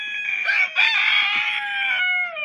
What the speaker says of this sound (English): I don't trust these chickens.